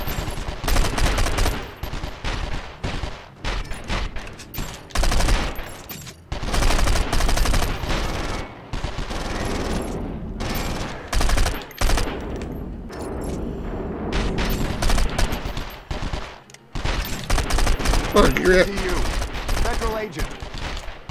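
Repeated bursts of automatic gunfire and explosions in the PlayStation 2 shooter 24: The Game, loud and dense with short pauses, someone occasionally talking and laughing over the shooting.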